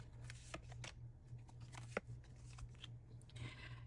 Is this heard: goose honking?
no